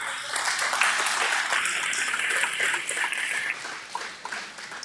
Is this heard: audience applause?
yes